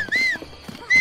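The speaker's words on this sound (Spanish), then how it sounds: "¿Y si llamo al caballo?" A horse whinnies in Zelda: Breath of the Wild, a high, wavering call that rises and falls over about a second, then starts again at the end over soft hoof clops.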